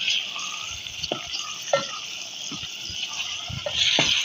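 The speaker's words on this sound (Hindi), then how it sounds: "हमारे पास जो प्याज है वो ब्राउन होना शुरू हो गया है" Chopped onions frying and browning in a pan for aloo keema, a steady soft sizzle with scattered crackles, pops and stirring clatter close by, no talk.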